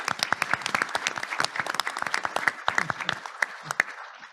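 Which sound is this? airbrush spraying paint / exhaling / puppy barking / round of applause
round of applause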